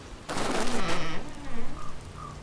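Rain in the video game Oxenfree starts abruptly as a steady, dense patter and holds for a couple of seconds, with faint tonal game sounds underneath.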